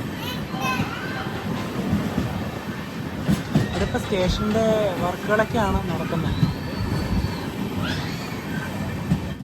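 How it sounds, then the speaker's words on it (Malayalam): The Amrit Bharat Express rolls into Changanassery station with rail clatter and high wheel squeals that rise and bend, while someone talks over the steady rumble of the train. "ട്രെയിൻ ചങ്ങനാശ്ശേരി സ്റ്റേഷനിലേക്ക് എത്തുകയാണ്"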